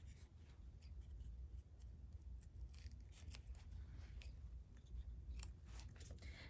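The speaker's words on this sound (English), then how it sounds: "snip these excess threads off from both sides" Scissors snip excess threads off both sides of a bridesmaid dress, giving a run of quick, close, crisp cuts over a steady low background hum.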